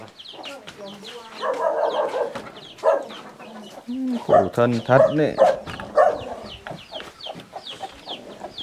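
Chickens at a rural Vietnamese family home cluck and squawk in irregular bursts, close and fairly loud, with people talking over and between the bird calls.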